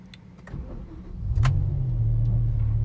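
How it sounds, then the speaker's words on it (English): BMW M6 with SMG gearbox starting up: a short starter whir, then the engine catches with a swell and settles into a steady, fairly quiet idle. "We will put it into neutral because that's how you start an SMG vehicle."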